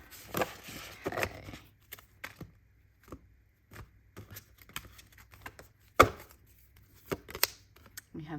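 Felt tarot cards are shuffled and handled up close, giving soft, sparse riffles and taps with quiet gaps between them, alongside faint talk in the room.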